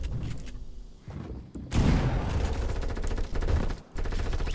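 Rapid gunfire in Fortnite: a sniper shot, then shotgun blasts, then rapid SMG fire, loud and close, with brief pauses between bursts and no talk.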